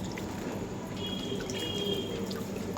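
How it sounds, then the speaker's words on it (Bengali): Water is poured over garden plants in hot weather, a continuous close splashing and trickling stream with faint dripping, no voices over it. "চলো গাছে জল দিই একটু।"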